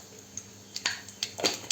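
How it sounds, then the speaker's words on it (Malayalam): Mustard seeds pop in hot oil for a Kerala raw banana curry, producing a few sharp, scattered quiet pops in quick succession. "കടുക് പൊട്ടിയിട്ടുണ്ട്"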